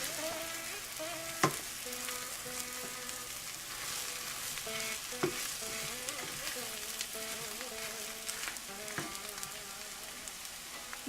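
Aloo tikki filling is stirred in a pan with the stove switched off, making a soft residual sizzle broken by repeated spoon scrapes and a few sharp knocks against the pan.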